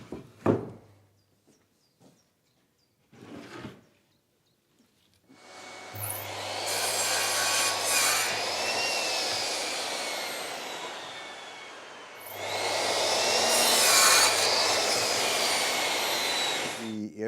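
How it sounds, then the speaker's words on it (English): A power saw cuts wooden planks in two long loud runs, each starting with a rising whine and grinding through the wood, preceded by a few brief knocks and handling sounds. "All right, so let's start cutting some planks."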